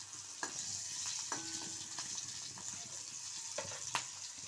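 Green chillies fry in a little oil in a home kitchen, a soft, even sizzle broken by a few sharp clicks and scrapes of stirring.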